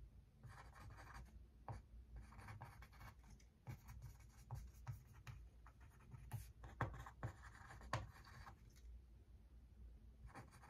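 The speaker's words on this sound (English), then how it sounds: "Hold on, I gotta write that down." A pen scratches steadily across paper at close range, writing continuously with short pauses and small taps, with no talking.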